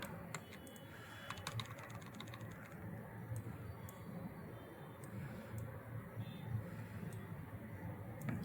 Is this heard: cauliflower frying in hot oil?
no